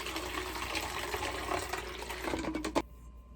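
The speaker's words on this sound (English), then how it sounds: "Now we're gonna pour the hydrogen peroxide into the thing." Hydrogen peroxide poured into a container, a faint trickling fill of liquid with soft splashes, ending in a brief clunk before quiet.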